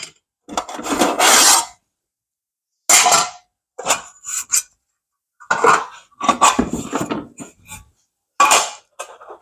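Trim being pulled and scraped off a MODE fence post: several rough, close rasping and rubbing bursts of uneven length, separated by short silences, with no talking.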